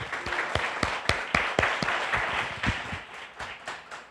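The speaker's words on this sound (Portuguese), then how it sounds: "Então aplauda de novo esse Deus" Church congregation applauding God during a worship service, a loose burst of hand claps with sharp individual slaps standing out over a steady wash of clapping, fairly close and continuous throughout.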